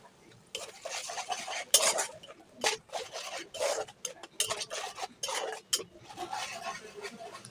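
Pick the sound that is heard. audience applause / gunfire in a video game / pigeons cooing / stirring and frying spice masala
stirring and frying spice masala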